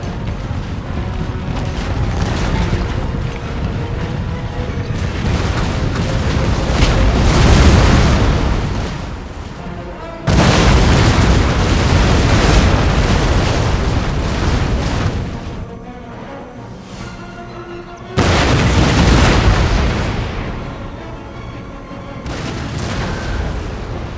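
Loud organ gun cannon volleys in a Total War game boom and rumble almost continuously, with dense overlapping blasts that swell, drop off, then surge again.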